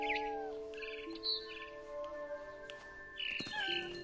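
Birds chirping in the video game What Remains of Edith Finch, several short, bright tweets scattered over a sustained soft musical drone, fairly quiet and with no talking.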